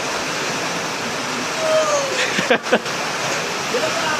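Rain falls as a steady, loud, even hiss throughout, with a few brief voices and knocks near the middle.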